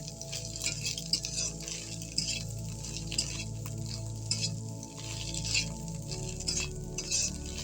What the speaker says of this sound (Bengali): এটাকে ভালো করে আমি নেড়ে নেব।